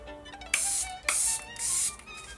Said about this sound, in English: I'm just going to set everything in place with my Charlotte Tilbury Airbrush Flawless Setting Spray